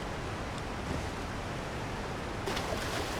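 Steady broadband rush of a waterfall in Elden Ring: Shadow of the Erdtree, a constant wash of falling water, with a brighter swell of spray near the end.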